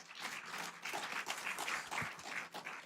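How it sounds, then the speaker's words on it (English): Round of applause at the Global Forum for Responsible Recruitment, a conference audience clapping steadily for the organizing team, a dense even patter of hands held at moderate level for about three seconds. "So I'd like to give them all a big round of applause."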